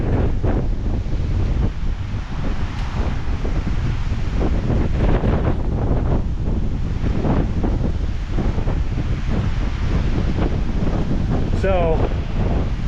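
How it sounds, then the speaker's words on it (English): Strong wind blowing across open ground near a highway as a storm rolls in, a loud, continuous roar buffeting the microphone with rumbling low gusts, and a voice briefly talking over it. "as you can see, it's quite windy, and that storm's rolling in"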